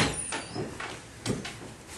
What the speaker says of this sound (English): you can go ahead and shut the door there.